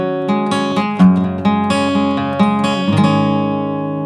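Electric guitar plays the middle eight breakdown of a song, a few chords and picked notes with accented strums, close and sustained, ringing out at the end with no talking.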